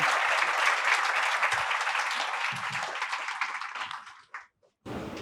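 Audience applause for a guest speaker at a UPSC talk event, a full, steady roar of many hands clapping that fades and briefly drops out near the end before resuming.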